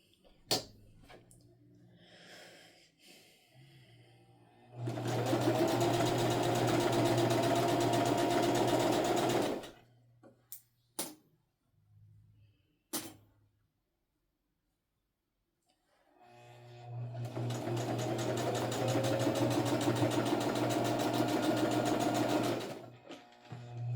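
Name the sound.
sewing machine stitching fabric for a makeup bag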